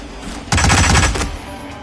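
Loud burst of rapid gunfire from the video game Hitman on PS4, a half-second automatic volley fired close up, with no talking over it.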